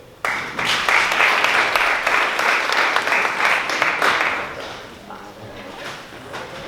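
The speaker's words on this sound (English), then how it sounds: "Give it a round of applause for Daniel Hill." An audience at an education summit in Boston bursts into applause for a speaker, a full, even burst of clapping that swells quickly, holds for about four seconds, then tapers into scattered claps and room noise.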